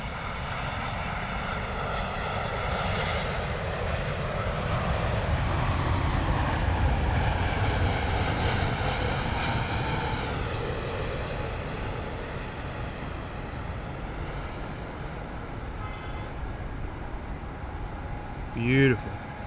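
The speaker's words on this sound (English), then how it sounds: "Pretty good looking Dreamliner there from American Airlines." American Airlines Boeing 787 Dreamliner from Chicago landing at London Heathrow, a loud jet engine roar with a sweeping whine that swells then slowly fades, continuous throughout, with a brief voice at the end.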